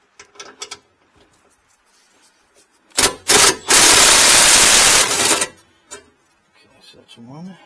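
A ratchet spinning out headlight bolts on a Ford F-250, heard as a loud burst of rapid clicking for a couple of seconds between quieter handling noises and brief speech.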